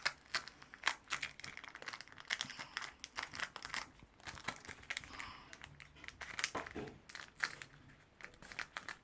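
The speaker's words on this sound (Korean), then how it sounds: "자, 그럼 다음은 더블 블레이즈 뜯어볼게요." A Pokémon card booster pack, the Double Blaze set, being torn open and handled, with repeated crisp foil crinkles and rips arriving in quick irregular bursts at close range, with no talking.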